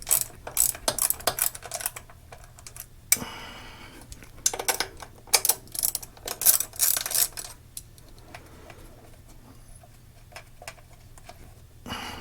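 A ratchet wrench loosening the 10 mm bolts on a throttle body during an LS3 intake manifold swap, bursts of rapid clicking ratcheting separated by quiet pauses, close up with no talk.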